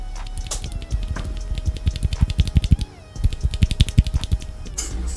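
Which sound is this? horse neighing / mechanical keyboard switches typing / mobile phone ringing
mechanical keyboard switches typing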